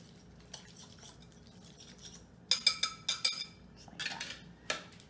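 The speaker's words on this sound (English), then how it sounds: "I'm going to go ahead and whisk these ingredients together" Mustard, black pepper and honey are whisked into a thick paste in a bowl, giving quiet scraping strokes, then a run of sharp close clinks from the whisk against the bowl, then more soft stirring with no talk.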